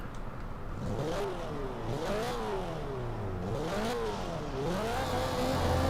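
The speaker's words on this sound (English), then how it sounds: "I'm playing some Forza Horizon 4. I'm trying this car that came out today." A newly released turbocharged car in Forza Horizon 4 revs up and down repeatedly, its engine pitch rising and falling in several sweeping climbs through gear changes.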